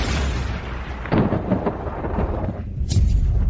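A deep rolling thunder effect rumbles through a dramatic scene, loud and booming, with rain-like hiss and a sharper crack near the end; no voices.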